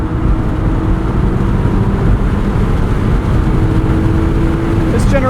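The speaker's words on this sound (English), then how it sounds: "Revs drop very easily and predictably" Engine of a 2009 Mazda MX-5 Miata NC2 with a five-speed manual, heard from inside the cabin as a steady, loud drone that eases off near the end, with road rumble underneath.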